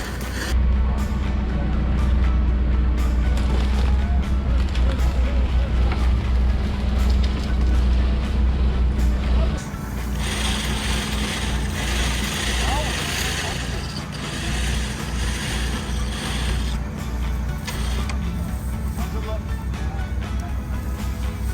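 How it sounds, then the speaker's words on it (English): Backhoe engine rumbling loudly and steadily while pulling an abandoned truck forward by its subframe, with mechanical clanks and a shift in the engine noise midway. "Running the backhoe."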